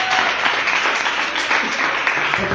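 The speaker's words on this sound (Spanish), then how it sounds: "Aplauda a Cristo." A church congregation applauds, a dense, steady wash of many hands clapping throughout, with a voice faintly mixed in.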